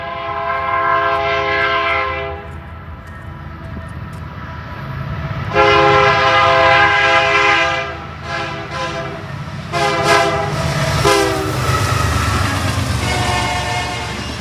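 A diesel locomotive blows its loud multi-chime horn in several long blasts and shorter toots over the deep rumble of the engine and passing rail cars, with no voices.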